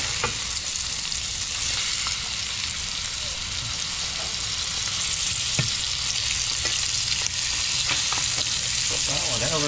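Lobster sizzling in a hot pan as it is flipped and cooked, a dense continuous frying hiss with small pops and crackles throughout, close and steady.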